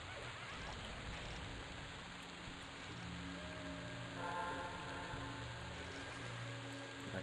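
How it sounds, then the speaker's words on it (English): Steady rain falls in the EverQuest video game, a continuous soft hiss of drops with faint low rumble underneath, quiet and unbroken throughout. "Why is it constantly raining?"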